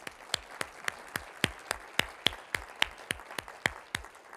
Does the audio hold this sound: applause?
yes